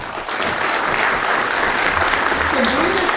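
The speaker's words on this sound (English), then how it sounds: "So please join me in a big round of applause for Belle Beglinger" Audience applause at a school speech night, a dense steady wash of clapping from a full room, with a voice briefly audible beneath it.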